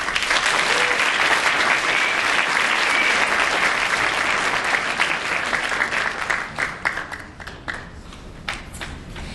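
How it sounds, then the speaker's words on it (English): Sustained applause from an awards-ceremony audience honouring book finalists, a dense steady roar of many hands that thins out toward the end into scattered claps. "let's give a round of applause"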